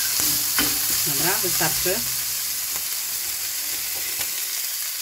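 Bacon and garlic sizzle in a pan for a zucchini and bacon bake, a loud, dense frying hiss with stirring scrapes, while a voice speaks briefly over it.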